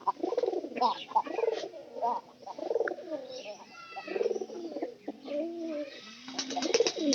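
Several domestic pigeons coo in overlapping, throaty phrases close by, with bursts of chirping mixed in and no talking.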